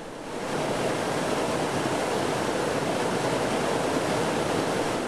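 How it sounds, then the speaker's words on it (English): Waterfall cascading on the Sturgeon River in the Temagami backcountry, a dense, even roar of tumbling water that swells in within the first half second and then holds steady and loud, with no voices. "the sturgeon tumbles over several waterfalls, including Kettle Falls, which is one of the most scenic cascades in the region"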